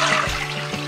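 Water is poured into a pot on a stove, about five cups, heard as a brief, close, steady splashing gush that lasts under a second with no talk.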